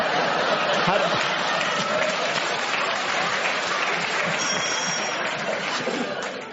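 A studio audience at a radio comedy panel game applauds in a steady, full wash of clapping that fades slightly toward the end, with no clear talk over it.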